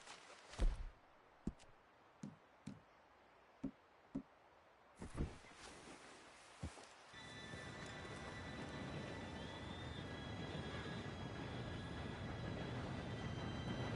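A train approaches in the Red Dead Redemption II video game: scattered sharp clanks and knocks at first, then a steady, loud rumbling roar with a faint high whine that holds to the end.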